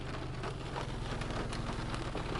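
Light rain falls steadily on the streets of Miami during Hurricane Ian, a constant near hiss of drops spattering on surfaces that runs unbroken throughout with no voices over it.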